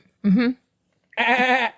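A baby goat bleats twice, with a short wavering cry followed after a pause by a longer, louder one, both close and clear against silence.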